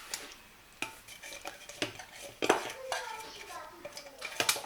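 Coconut being mixed in a bowl for baked chocolate treats, with a spoon clinking and scraping against the dish in a series of sharp taps and knocks, close and moderately loud, in a home kitchen.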